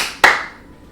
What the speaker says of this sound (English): we're going to do 2 sets of the clap